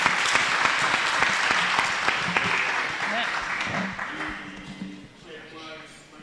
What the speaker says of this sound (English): let's give a round of applause to the great panelists here today